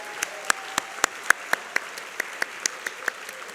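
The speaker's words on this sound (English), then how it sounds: "give them a round of applause for being such wonderful hosts" Sparse clapping from a conference audience in a large hall, a handful of distinct sharp claps at an irregular, unhurried rhythm over a low room hum.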